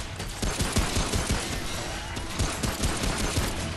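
Rapid gunfire in the video game Remnant: From the Ashes, a dense fusillade of repeated shots in quick bursts, fairly loud and continuous for several seconds.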